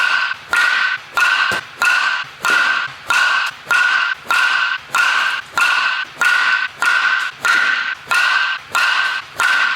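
USSSA baseball bat striking balls in a steady series of about sixteen sharp, ringing cracks, each followed by a brief tail. The hits are evenly spaced, close and loud, with no talking.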